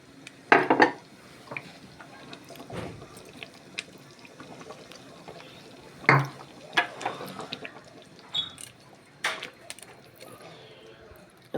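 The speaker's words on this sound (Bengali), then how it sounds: "এবার আমি ভাজা মশলাটা দিয়ে দেবো।" Fried spices go into a pan of chickpea curry, heard as intermittent metal spoon clanks and scrapes against the pot, with a soft wet stir and faint drips between the louder knocks.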